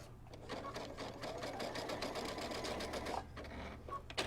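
A sewing machine zigzag-stitches across a fluffy robe belt while a kimono-style robe is being sewn, giving a steady close rattling run for about three seconds, a brief stop, then a shorter burst.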